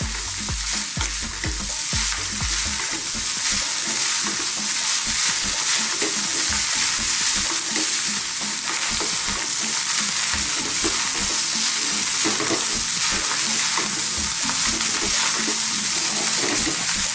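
West Indian-style chicken fried rice sizzles loudly over very high heat in a pan, with constant close-up stirring and scraping across a long, unbroken stretch.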